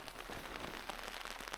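Rain pattering on a tent and tarp at a solo camp in Arctic Norway, a soft continuous patter of drops with scattered louder taps close by, no voices.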